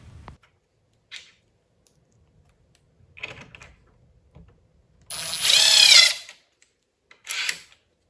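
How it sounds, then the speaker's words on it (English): Screws being driven into the end panel of a 48-inch foosball table through holes that are not pre-drilled, heard as short separate bursts of clicking and one longer whirring drive near the end, close by with quiet gaps between. "you might need to apply some pressure when screwing in your screws"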